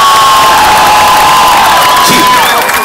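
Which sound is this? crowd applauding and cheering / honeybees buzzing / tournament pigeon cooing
crowd applauding and cheering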